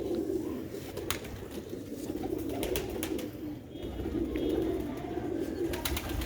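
Sialkoti Sheikh-style kukkar pigeons coo in low, rolling repeated calls, fairly close and continuous, with a few faint higher chirps and light rustles around them and no one talking.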